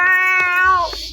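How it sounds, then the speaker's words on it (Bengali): A cat meows close by: one long, clear, falling call, followed by a brief softer chirp, with no voices over it. "কত সুন্দর একটা বিড়াল।"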